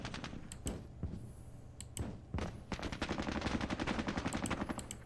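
Squad-level gunfire in a Vietnam War battle for Hue City in 1968 crackles from the game Squad Battles Vietnam, sharp single shots early on giving way to a rapid, sustained rattling burst, close and loud, with nobody speaking.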